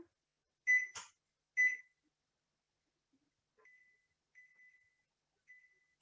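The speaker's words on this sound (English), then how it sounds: "we're gonna set our timer" Kitchen timer being set before cutting ciabatta: two short bright beeps close together, then a few fainter, longer tones spaced apart, alone in a quiet kitchen.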